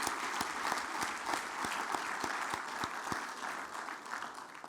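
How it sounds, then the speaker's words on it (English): Audience applause at an aviation stakeholders convention opening ceremony, a steady room-filling clapping from a large crowd with sharp individual claps standing out, sustained at moderate loudness throughout. "please give a round of applause to all of the air cargo men, women, flight crews, airlines."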